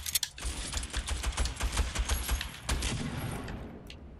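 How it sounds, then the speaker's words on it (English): Rapid bursts of gunfire from the Fortnite video game, with repeated shots echoing back in quick succession, loud and continuous throughout with no talk. "you hear gunshots, and then you hear them again"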